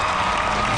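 A studio audience on a television game show applauds in a brief, even burst of dense clapping, heard close and without talk.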